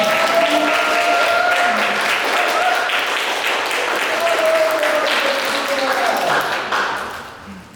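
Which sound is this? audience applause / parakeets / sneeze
audience applause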